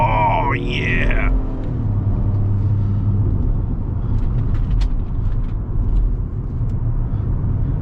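A 2023 Acura MDX Technology engine drones low and steady while accelerating on the highway, heard from the cabin, with a rising whine in the first second and road rumble continuing throughout.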